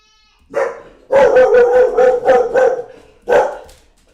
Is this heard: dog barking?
yes